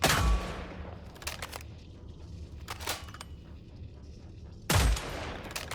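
MP5 submachine gun fire in the video game Killing Floor 3: a loud burst opens, a couple of quieter shots follow over a low hum, and another sharp burst lands near the end.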